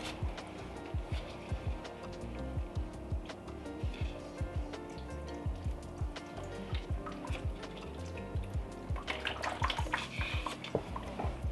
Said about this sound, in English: Just gonna water everything in this area as well